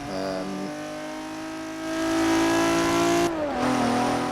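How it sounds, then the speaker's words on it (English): Regelia Type-D engine in Forza Horizon 4 revving loudly with turbo inlet whoosh, steady high drone climbing through a sustained rev before a sudden drop and recovery, close and alone. "It's got that sort of turbo inlet noise as well, which kind of modernises the sound a tad."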